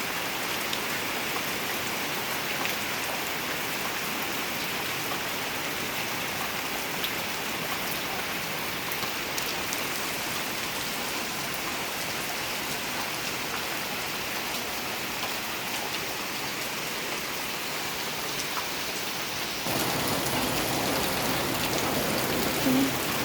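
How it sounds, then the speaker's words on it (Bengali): Dense, heavy rain pours steadily on surfaces, a constant hiss that continues without pause and grows slightly louder near the end. "প্রচুর বৃষ্টি হচ্ছে"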